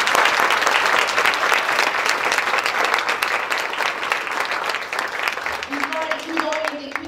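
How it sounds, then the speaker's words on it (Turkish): An audience at a school children's drama festival claps loudly and steadily, the applause thinning a little near the end as voices and a few whistles or cheers come through. "Önce onlara bir alkış almak istiyorum."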